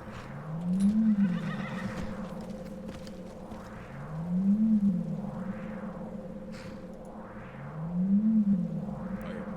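A horse in the video game Skyrim neighs three times at regular intervals over a steady low hum and soft, rhythmic game sounds, fairly faint and without talk.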